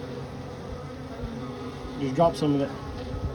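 Honey bees hum steadily around cut comb that is leaking honey, a close, low buzz underneath brief talking.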